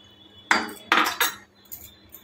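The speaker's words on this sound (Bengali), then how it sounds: "ভালো করে ফেটিয়ে নিয়েছি" Rava masala dhokla batter mixed with water in a bowl gives a few loud, irregular scraping and clattering strokes of the utensil against the bowl, close up, with short pauses between and no voices.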